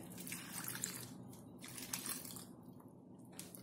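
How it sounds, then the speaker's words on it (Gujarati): Cold water is poured over boiled bitter gourds sitting in a sieve, giving a quiet, steady watery trickle and dripping that runs throughout, with no voices. "કારેલાની ઉપર આપણે અત્યારે ઠંડુ પાણી રેડીશું જેથી તે એકદમ સોફ્ટ ના થઈ જાય."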